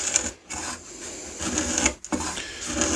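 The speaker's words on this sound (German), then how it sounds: "Anlegen, leicht runterdrehen, dass der Nagel übers Holz kratzt." A marking gauge's nail scratches across wood in rough, close scraping strokes, two passes separated by brief pauses.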